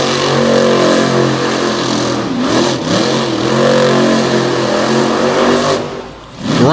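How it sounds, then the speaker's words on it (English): A Hemi-powered monster truck engine roars and revs hard through a dirt freestyle competition, loud and continuous with rising and falling pitch, then dipping briefly near the end. "Grinding the Hemi horsepower into the dirt as he's cruising right now in this freestyle competition"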